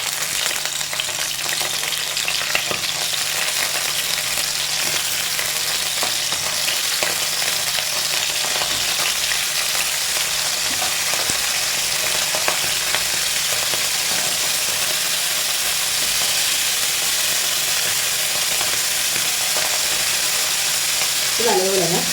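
About ten home-dried sardines fry in a pan, giving a loud, steady, close sizzle that runs unbroken for over twenty seconds with occasional scraping clicks from stirring.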